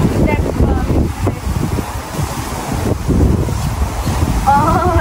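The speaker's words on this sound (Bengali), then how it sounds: "একটু বাতাস আসছিল।" Wind gusts into the microphone in a UK home garden with a coriander patch, a steady low buffeting rumble that rises and falls throughout while voices talk nearby.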